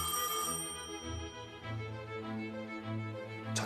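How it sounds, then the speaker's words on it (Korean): An old telephone rings at a Korean language society office in 1945, a bright metallic bell repeating in bursts over a sustained low musical score, with no talking. "조선어 학회 사무실로 한 통의 전화가 걸려옵니다"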